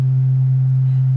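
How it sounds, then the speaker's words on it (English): A pure sine wave tone sounding the note C holds steady and loud for just over a second, a clean single pitch with no other sounds before it cuts off. "That's a pure sine wave playing a C."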